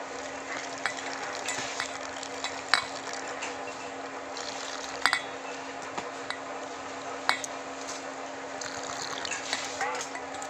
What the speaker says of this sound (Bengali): এবার জল দিয়ে ভালো করে একটা ব্যাটার বানিয়ে নেব